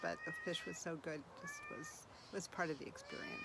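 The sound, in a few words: cat meowing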